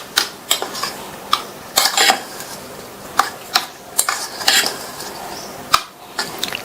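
Puttu, a steamed rice breakfast, being mixed with sugar and grated coconut in a bowl, with a spoon clinking and scraping against the dish in irregular sharp taps, close and fairly loud, no talking.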